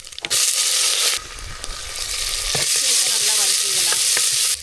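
Dried red chilies and cumin crackle and sizzle loudly in hot oil in a village kitchen, a dense steady frying hiss with sharp pops and a few stirring scrapes, no talking.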